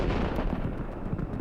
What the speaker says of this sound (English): A moment later, we witness a tremendous explosion.